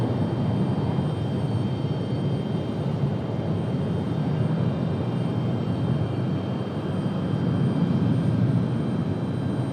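A Boeing 737 jet takes off bound for Boston, its engines giving a steady, broad, moderately loud roar that holds evenly without a break.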